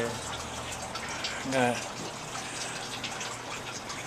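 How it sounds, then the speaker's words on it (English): Water pours steadily out of a biofilter on a small home growing system, a continuous close rushing trickle that holds even throughout, with a brief spoken word partway through. "You see the water is coming out of there."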